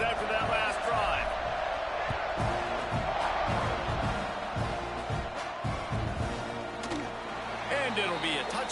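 A football stadium crowd at an Oklahoma Sooners game roars steadily with cheering during a kickoff. A commentator talks over the dense, continuous crowd noise throughout.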